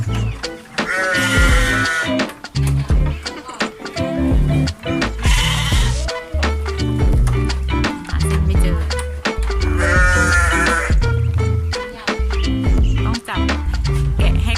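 Goats and sheep bleat repeatedly and loudly during a blood draw, with several drawn-out cries over clattering handling noise and occasional voices nearby.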